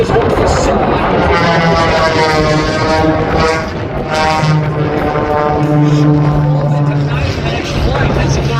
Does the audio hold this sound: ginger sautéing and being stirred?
no